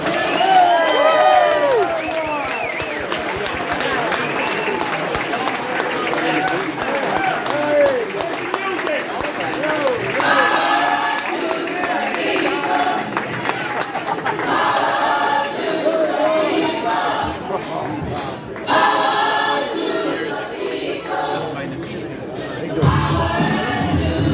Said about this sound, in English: Let's give a big round of applause for my husband, Phil Gaughan.